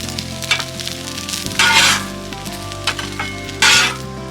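Toast and eggs fry on a Blackstone griddle with a constant loud sizzle. A spatula scrapes and clinks against the flat top in a few sharp bursts.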